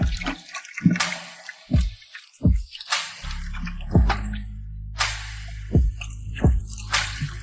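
Water poured into a basin for hand washing, heard up close as a run of separate splashes and drips with brief quiet gaps between them and no talking.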